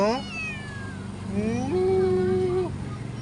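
An abandoned kitten by a bridge gives a long, drawn-out meow rising and wavering in pitch, close by, after a brief fainter mew at the start.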